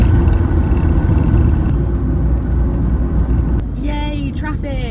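A van drives along a road after a fuel stop, its engine and road rumble forming a loud, steady low drone throughout, with brief higher tones near the end.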